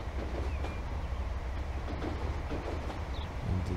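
A train with a restaurant car runs steadily in the railway game Transport Fever 2, giving a continuous low rumble with faint clatter throughout.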